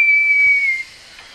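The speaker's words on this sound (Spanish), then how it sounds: "se siente un silbido." A single clear, high, steady whistle holds for under a second, then cuts off, leaving faint hiss behind.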